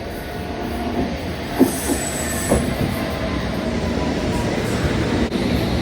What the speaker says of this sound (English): the platform's very busy, but I think our train's coming now.